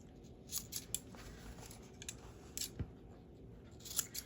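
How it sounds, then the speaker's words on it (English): Scissors snip the corner of a fabric tote bag in a quiet room, a handful of faint, crisp clips spaced irregularly, with no talking. "You can clip this corner if you like. Let me clip it."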